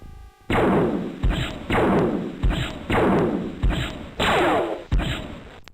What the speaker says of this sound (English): Okay, laser fired.